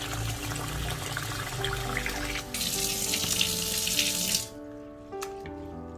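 A kitchen tap runs water steadily onto rice being soaked in a vessel, a loud continuous gush that cuts off near the end, leaving a quieter tail with a brief splash.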